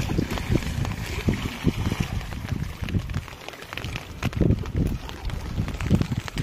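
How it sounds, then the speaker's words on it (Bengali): A thunderstorm lashes a big river, the Garal, with wind and rain, heard from a boat as rough gusting buffets and a hissing downpour in uneven bursts, loud and close. "বড় নদীতে তুফানও কিন্তু খুব হচ্ছে"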